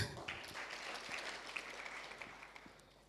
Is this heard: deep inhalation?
no